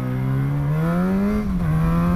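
Motorcycle engine revving steadily through its rear-positioned exhaust on country roads, a loud, continuous drone whose pitch climbs and then dips slightly, with no voices.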